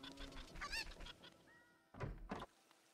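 A person imitates a chicken with a couple of quick, goose-like clucking honks in two short bursts, close and fairly quiet.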